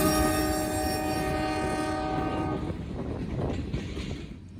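Norfolk Southern freight train rolling past with a loud sustained horn blast that cuts off midway, leaving rumbling wheels and clattering cars close by.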